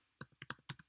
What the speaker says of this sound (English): Just type in git help